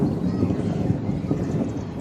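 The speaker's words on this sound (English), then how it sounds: "It's a blessing by God as you hear the thunderstorm." Thunder from a storm rumbles as a steady, dense low roar that holds close and loud for the whole stretch, with no clear crack and possible rain or wind mixed in.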